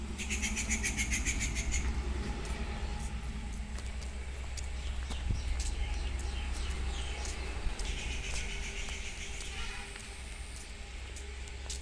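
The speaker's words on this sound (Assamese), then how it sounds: "চৰাই চিৰিকটিৰ মাতবোৰো শুনিবলৈ ইমান ধুনীয়া লাগিছে।" Scattered high chirps and calls from several birds ring out on a foggy morning over a steady low rumble of outdoor background noise, moderately distant.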